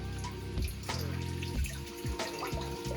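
Water trickles and drips steadily through a 3D printed hydroponic system, a quiet close-up flow with small splashes and gurgles.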